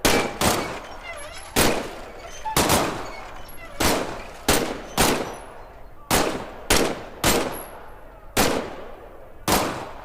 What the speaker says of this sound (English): Squeeze the trigger to fire.